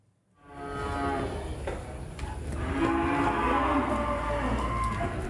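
Cattle moo repeatedly at a busy livestock market in Tasikmalaya ahead of the Eid al-Adha sacrifice, with long lowing calls over a steady wash of crowd and market noise.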